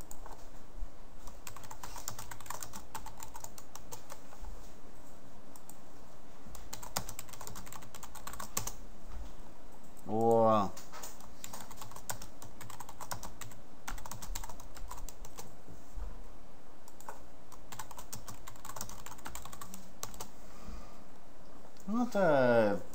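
Someone types a chat message on a computer keyboard, a close, continuous patter of key clicks in bursts with short pauses, and a couple of brief electronic chirps in between.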